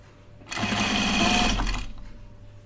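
A serger sewing machine stitching sweatshirt fabric gives a close, steady mechanical whir that starts sharply, runs for about a second and a half, and then winds down.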